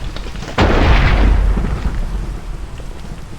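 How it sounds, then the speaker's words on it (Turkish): Lightning strike and thunder in the Minecraft video game, a sudden loud crack followed by a deep rolling rumble that slowly fades, with no talking. "üstüme şimşek düşmesi bir tuhaf"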